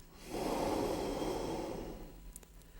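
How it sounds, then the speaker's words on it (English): A single long, deep breath drawn in close to the ear, a soft airy rush that swells and then trails off. "Make them nice, long, deep, rhythmic breaths."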